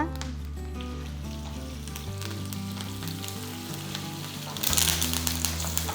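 Crushed garlic and curry leaves sauté in a pan for a fish curry, giving a continuous soft sizzle beneath steady background music that swells near the end.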